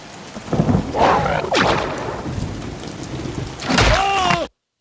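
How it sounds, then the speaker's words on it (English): A lightning cloud spell exploding in the video game Geneforge 4 brings loud crackling, rumbling bursts with thunder-like booms and sharp zaps, rising twice before cutting off abruptly. "Cloud of lightning."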